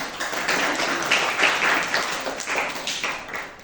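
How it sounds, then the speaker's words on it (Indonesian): Applause from an audience at a teacher academic-supervision session honouring a student reporting winner, dense steady clapping throughout with slight swells, moderately close. "Tepuk tangan untuk Bilqis"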